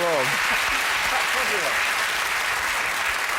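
A studio audience at a British TV comedy panel show claps and cheers steadily, a dense wash of loud applause held throughout with a presenter's voice briefly audible at the start.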